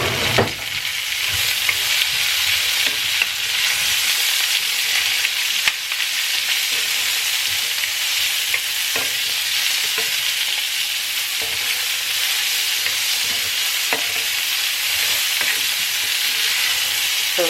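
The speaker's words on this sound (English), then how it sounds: "I'm going to go ahead and add onions in there and saute that for a little bit" Onions sauteing in a pot as the base for a pot roast, a steady loud sizzle and crackle with occasional stirring clicks, continuous throughout with no talking.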